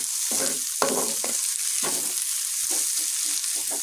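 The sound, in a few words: onion and shrimp frying in a pan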